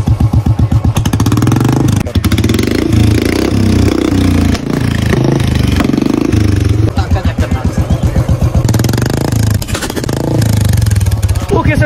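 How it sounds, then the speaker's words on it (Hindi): A loud Royal Enfield Bullet motorcycle with a modified silencer and deep, popping exhaust fires up close by and revs repeatedly, its throaty rumble rising and falling while someone talks over it. "सो चलो बाइक करते हैं अपनी स्टार्ट"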